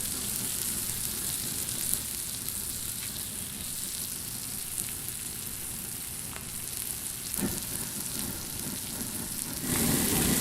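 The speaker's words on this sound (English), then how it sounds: "Oh yeah, you hear that sizzle?" Steady, loud sizzling of chicken breasts frying in butter in a hot pan, a dense crackling hiss that continues for the whole stretch, with a few sharper pops along the way.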